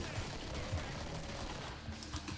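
Rapid gunfire in Killing Floor, a dense steady rattle of shots at low level, with a faint voice underneath.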